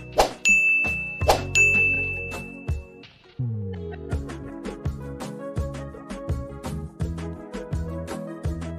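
A bright subscribe-bell ding rings out twice near the start, each strike with a long shimmering tail, followed by a steady run of repeated chiming tones over a light musical backing.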